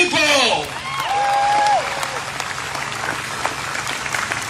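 A crowd claps in a continuous patter under a loud voice that rises and swoops at the start, and the applause carries on steadily once the voice drops away.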